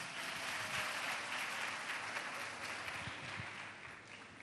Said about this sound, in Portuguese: Aplaude aqui o Daniel, por favor.